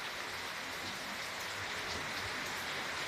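Steady rain pouring down in a thunderstorm, a dense even hiss of drops on surfaces throughout, with no voices.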